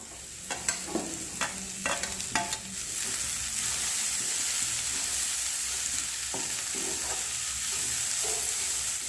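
Chopped banana flower coated with two spoons of mustard oil drops into a hot pan, a few sharp clatters giving way to a steady, loud sizzle and crackle of frying that carries on to the end, with no talk.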